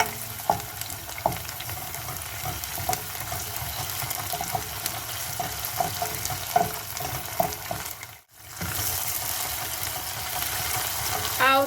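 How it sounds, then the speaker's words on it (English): Tomato paste fries in a pan while cooking a tomato sauce, giving a continuous sizzle with scattered soft taps and stirring clicks. There is a brief dropout near the end, then the steady frying resumes. "You can see I'm going to add it and allow it to fry."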